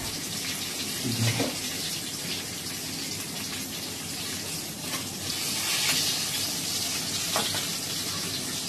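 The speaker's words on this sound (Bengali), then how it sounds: "বেগুনটা প্রায় ভাজা হয়ে গেছে" Eggplant frying in oil, a dense, even sizzle and crackle held close and steady throughout, with no voices over it.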